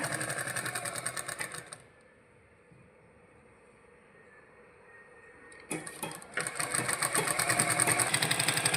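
A sewing machine stitching fabric, its fast rhythmic mechanical clatter loud and close, stopping for a few seconds of near quiet before starting again and running steadily to the end.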